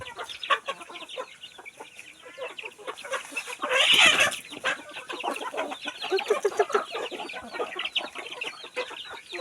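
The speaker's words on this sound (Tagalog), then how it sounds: "Chicken farm." Many chickens cluck and chatter on a small family chicken farm, a busy overlapping flock close by, with one louder squawk rising briefly in the middle.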